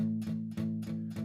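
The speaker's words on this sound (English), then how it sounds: "rest the palm there, you're getting that muted sound" Four short palm-muted guitar strums in a steady rhythm, each a dull, damped chord that cuts off quickly, close and fairly quiet.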